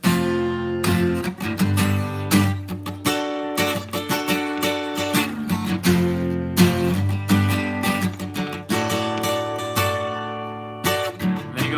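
Acoustic guitar in open D tuning plays the bridge of a song, with strummed chords and picked single notes in a loose, bluesy rhythm, close and alone.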